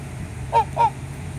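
Two loud honking squawks from a goose-like bird in quick succession, close and clear over a low background hum, from a flotilla of birds coming ashore.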